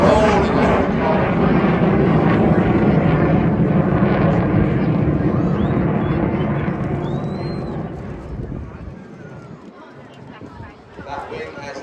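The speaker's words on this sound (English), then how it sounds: "Aircraft up, about 400 feet, rolling over the column." A jet aircraft rolling low at about 400 feet at the Blackpool airshow, its loud rushing engine roar steady and near before slowly fading away, with a commentator talking over it.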